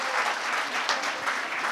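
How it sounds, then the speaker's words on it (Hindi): An audience at a breast cancer survivors conference claps for the panelists, steady dense applause from a hall crowd. "ताली हो जाए। चलिए जी,"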